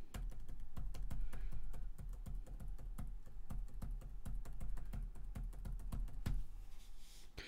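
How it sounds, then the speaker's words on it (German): Rapid, irregular clatter of typing on a laptop keyboard, picked up close by a Rode NT-USB microphone, with dense overlapping key taps and a low background hum, no voices. "Tastatur klappern, Rode NT, USB, Laptop, also auf dem Laptop"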